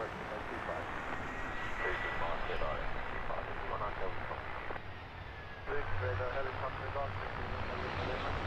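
A DHL plane at London Luton Airport rumbles steadily as it taxis and powers up for takeoff. The engine roar holds throughout, with a brief surge near the end and background chatter underneath.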